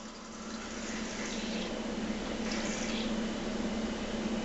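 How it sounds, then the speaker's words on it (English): A steady splashing pour as limeade juice and sugar wash go from cans into a mixing bucket for a wine cooler batch, a continuous close liquid rush with no talking. "we're gonna take our cans of juice and pour into our bucket"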